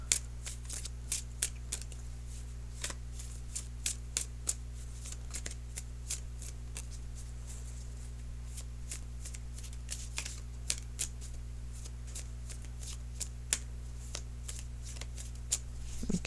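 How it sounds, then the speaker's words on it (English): Tarot cards being shuffled in a steady run of crisp riffling flutters and soft slaps, close and fairly quiet over a low constant hum, with no talking. "let me shuffle for"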